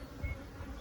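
Honeybees buzz in a low, steady drone around a beekeeper working an aggressive colony with a new queen, close and continuous, with no other sounds.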